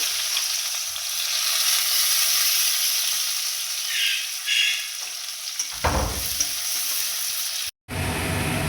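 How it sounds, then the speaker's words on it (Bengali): Chopped onions fry in hot oil in a pan, a steady loud hiss and crackle with stirring scrapes and a sharp surge of sizzling partway through. "কোচানো পেঁয়াজগুলো দিয়ে দিচ্ছি"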